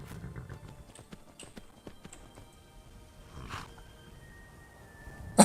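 Horse hooves in Skyrim clop in an irregular walking rhythm, soft and fairly distant, with a louder burst right at the end.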